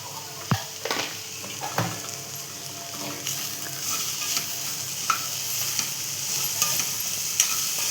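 Wild monsoon leafy greens, salted, stirred in a hot pan with a spatula, a steady sizzle of frying under sharp scraping and clattering strokes, close and fairly loud, with no talking.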